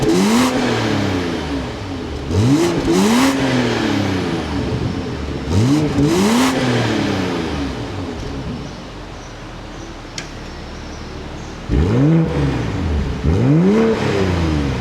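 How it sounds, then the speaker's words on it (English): A 2025 BMW M340i revs repeatedly through its dual outlet exhaust, each rising and falling sweep loud and close, separated by idling pauses, with no talking. "we still get the dual outlet exhaust that everybody loves for the M340i"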